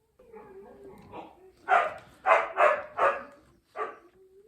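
A Siberian Husky barks and yips at close range, a few soft whines giving way to a burst of five sharp barks in quick succession, then one more bark and a quiet whimper.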